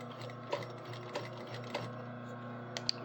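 A sewing machine stitches along the line of a serged fold: a steady close mechanical whir with soft periodic clicks and a couple of brief ticks near the end, with no voices.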